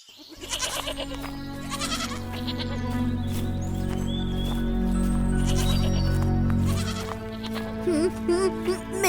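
Cartoon goats bleat repeatedly in a Hindi comedy farm scene, several overlapping high wavering calls sounding close and loud over a sustained background, with no talking.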